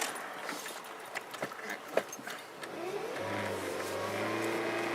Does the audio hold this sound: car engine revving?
yes